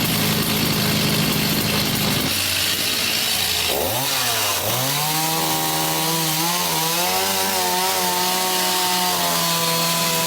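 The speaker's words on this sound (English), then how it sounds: "The easiest way to do this is by slicing through with a chainsaw." A chainsaw slices through a mud wall and timber during Japanese carpentry work, its engine loud and close, dropping from a cutting roar to a wavering idle that then settles into a steady, humming run.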